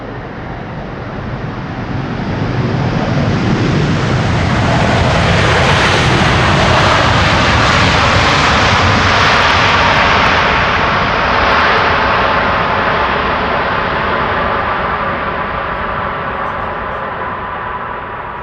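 An airliner landing at Amsterdam Schiphol with thrust reversers engaged, a loud, broad jet roar swelling over several seconds, holding steady, then slowly easing off, with no voices.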